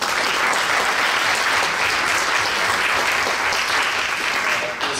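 Crowd applause at a film festival awards ceremony, with a dense, continuous wash of clapping from a large audience that holds steady for about five seconds and eases slightly at the end.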